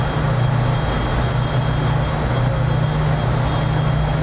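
A gigantic, long freight train hauling pulpwood rumbles steadily past, a loud continuous drone with a low hum, close and unbroken, with no talking.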